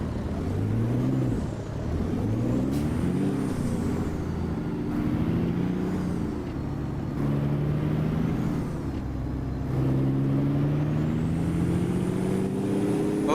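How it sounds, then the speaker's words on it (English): A deep, gritty turbocharged truck engine in American Truck Simulator, hauling a 53-foot reefer trailer, drones steadily, its pitch rising and falling through gear shifts, with a faint turbo whistle riding high above the rumble. "I love the sound of that turbo in this truck too."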